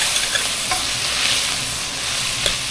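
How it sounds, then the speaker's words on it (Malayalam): Sambar being stirred with salt in a pot, a steady wet sizzle under a few soft scraping clicks of the spoon, close and continuous with no talk. "ജസ്റ്റ് ഒന്ന് ഇളക്കി കൊടുക്കാം"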